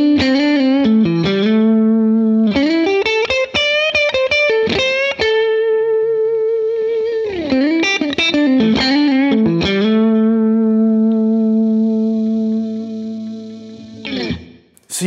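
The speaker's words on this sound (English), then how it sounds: "if I turn this on, I get basically the same amount of signal when I hit the note because the compressor squashes it" Electric guitar notes played through a compressor on a Line 6 Helix, sustained and evenly squashed, with bright bends and vibrato ringing out long at near-constant loudness, up close and alone before a brief dropout at the end.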